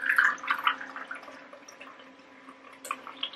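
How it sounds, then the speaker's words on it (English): Tea poured from a height into a cup, heard as a close, thin trickle and splashes that fade into scattered drips, then a short final splash, with no talking. "So we're gonna literally pour some tea."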